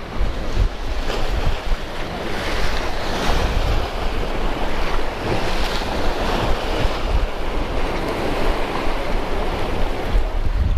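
Ocean surf washes continuously at Miami Beach, a dense rushing roar of breaking waves mixed with heavy wind buffeting the microphone, steady and loud throughout with no speech.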